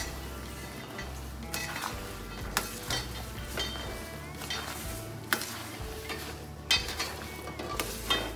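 A thick peanut-brittle-like sweet mixture stirred in a frying pan, sizzling steadily while a utensil scrapes and clicks against the pan in irregular sharp strokes, close up and with no voices.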